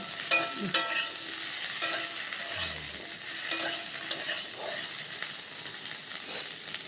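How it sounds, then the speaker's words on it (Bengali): Potatoes, okra and spices fry in a pan, making a continuous close sizzle with occasional stirring scrapes and clinks throughout, and no voices. "এখন এগুলো ভাজা ভাজা হচ্ছে"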